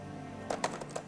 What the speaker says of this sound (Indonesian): Kamu lagi ngomong apa ngetik sih, Zam?